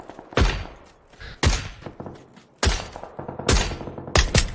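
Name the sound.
gunfire in the video game Squad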